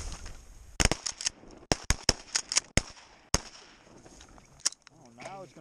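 Sharp 20 gauge shotgun blasts at a duck hunt from an ice hole, about a dozen loud reports in quick irregular bursts over a few seconds, a few more spaced out later, with a faint voice near the end.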